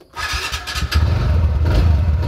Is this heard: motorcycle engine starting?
yes